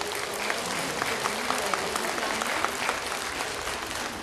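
Steady applause from an audience at the opening of a spring ecology festival in Lubań, Poland, a moderately loud wash of clapping with a few sharper claps near the microphone and faint murmuring voices underneath.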